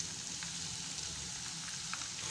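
Garlic, ginger and green chili paste fries in a pan for saag tadka, a steady, even sizzle like light rain, moderately close and continuous, with no talking.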